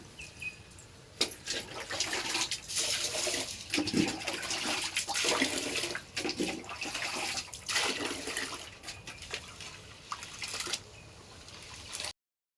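Splashing and sloshing water close by, as rice is swished and rinsed by hand in a vessel for idli batter, in irregular bursts with no talking.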